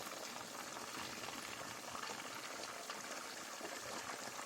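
Hot oil with cornstarch bubbling and sizzling steadily in a pan on the stove, a dense continuous crackle and fizz at close range with no talking.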